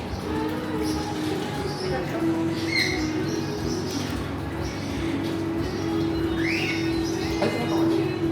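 Small birds chirp and tweet close by in a busy outdoor spot in Thailand where they flock right up to people, with short high calls scattered over a steady murmur of background activity.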